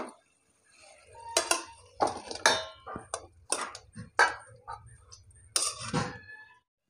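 Bengali fish curry of mourala fish with aubergine being served into a dish, with a series of sharp clinks and clatters of utensils against dishes, close and irregular, with no talking.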